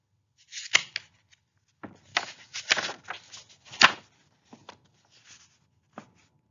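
Paper rustles and crinkles in short, crisp bursts, close and alone, with brief pauses between handling movements and a sharper crackle near the middle.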